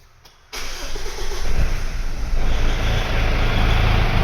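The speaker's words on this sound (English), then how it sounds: "Engine started." An old, rattly car engine cranks and catches during a battery cranking test, going from near silence to a loud, steady running roar that holds close up to the end.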